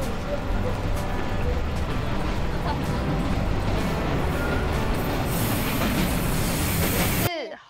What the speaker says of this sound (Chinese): 火车，快火车来了，快快！